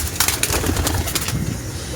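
Pigeons coo nearby in soft, low repeated calls, with a brief rustle or flutter of wings mixed in.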